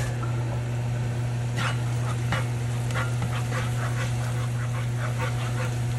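A little garlic frying in oil for Kapampangan pancit luglog makes a constant sizzle over a low, steady hum, with scattered light stirring ticks and no voices.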